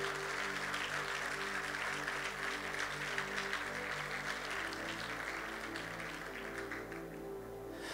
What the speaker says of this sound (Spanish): Y si va a aplaudir, aplauda fuerte al Señor de señores